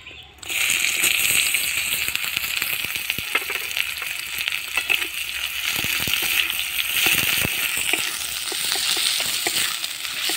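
Chopped onions fry in hot oil in a pan, a loud, close, steady sizzle with crackling pops and occasional stirring scrapes running throughout.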